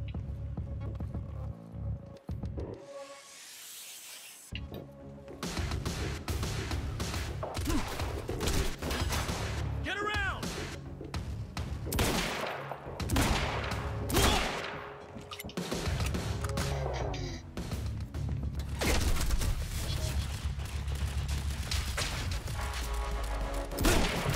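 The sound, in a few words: turret gunfire in video game Quantum Break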